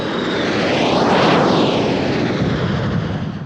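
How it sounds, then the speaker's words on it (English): An F-4 Phantom jet fighter roars past at an airshow in Turkey, its loud broadband engine noise swelling to a peak and then fading as it moves away, with no talk. "the mighty and unmistakable sight of the F-4 Phantom, still in service after all these years"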